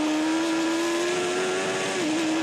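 A superbike races flat out on a road-racing course, giving a loud, sustained, high-revving engine whine that holds a steady pitch and dips briefly before climbing again.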